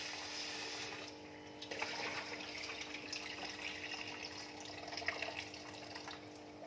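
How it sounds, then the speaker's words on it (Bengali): Raw chicken washed under a running tap, a steady, soft stream of water splashing continuously into a sink with a faint, even hiss and occasional small splashes. "ভালোভাবে ধোয়া শেষ হয়ে গেছে বন্ধুরা আমার চিকেনটা।"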